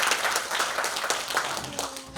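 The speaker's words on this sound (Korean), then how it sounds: "박수 한번 부탁드립니다" An audience at a university library healing concert claps in a dense, continuous round of applause that keeps a steady level across the moment.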